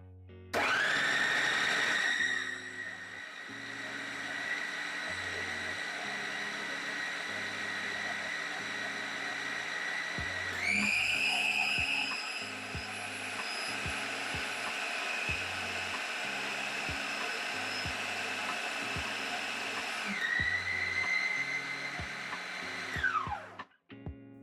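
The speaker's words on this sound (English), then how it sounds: "Let's see how it looks above the food processor." A food processor motor runs loudly and steadily with a high, harmonic whine, starting and stopping in three long runs of about ten seconds each before winding down, with no one talking.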